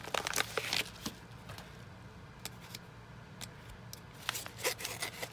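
A diamond painting canvas package is opened up close, with quiet rustling, crinkling and rubbing of plastic and paper in short bursts separated by faint pauses.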